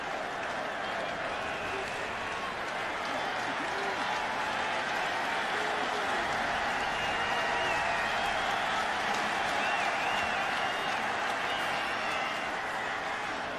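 A college football stadium crowd during BYU against Wisconsin, a broad steady roar of cheering and applause from a large distant crowd, sustained evenly throughout.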